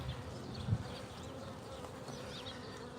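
A soft, continuous buzzing of many honeybees, low and steady with some nearby bees drifting past, calm and faint overall.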